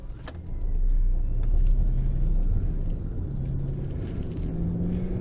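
A 2001 Audi S6 on a road test gives a steady low engine drone and road rumble from inside the cabin, swelling slightly early on, then holding even, with no talking.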